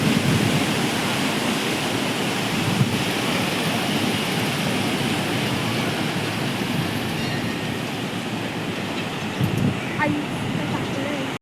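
Sea waves rolling in at high tide on the Kunkeshwar coast, a steady, loud wash of surf that carries on unbroken from start to finish with no talk over it.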